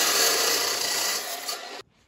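A chop saw cuts through thick-walled steel pipe to form a saddle, giving a loud, close, harsh grinding rasp that holds steady and then stops abruptly as the blade breaks through.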